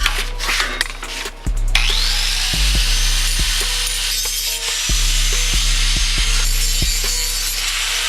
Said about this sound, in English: I'm going to clean this up with the grinding wheel.